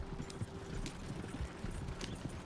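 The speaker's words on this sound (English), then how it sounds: "Horses won't go this fast for long." Horses galloping in Red Dead Redemption 2, hooves pounding in a quick, uneven rhythm against a continuous rumble of movement, fairly close and steady throughout.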